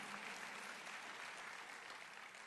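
Steady, even applause fills a county State of the County address hall, a dense wash of many hands clapping at a distance with no pauses or voices.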